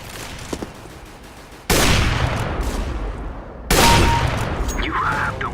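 Gunfire in Counter-Strike: Global Offensive, a loud burst of shots that begins abruptly and then comes again in a second volley, sounding close and dense, with no voices.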